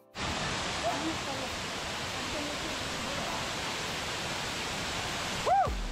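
A large waterfall on a rainy forest trail roars as a steady broadband wash close by, with a brief voice near the end.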